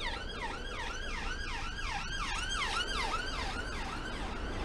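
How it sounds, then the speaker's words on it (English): Wailing emergency vehicle sirens sweep up and down in a steady, repeating cycle near a prison, sounding continuous and moderately distant over a low, constant background rumble, with no talking. "There's a lot of blue lights and sirens"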